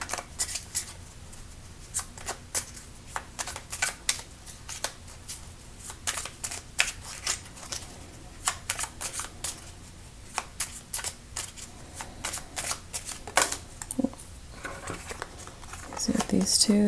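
A deck of Everyday Witch Tarot cards is shuffled repeatedly at close range, giving quick papery riffles and slaps in irregular bursts. The shuffling continues throughout while a voice talks over it.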